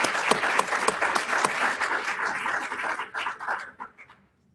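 A crowd at a 2021 student leadership awards ceremony applauds graduating seniors with a full, lively burst of clapping that thins out and fades to silence over the last second.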